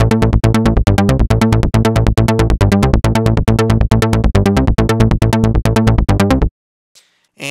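A synthesizer plays a loud, driving bass sequence shaped by an ARP modulation pattern, a fast, steady repeating pulse of punchy notes that cuts off abruptly near the end, leaving a short silence.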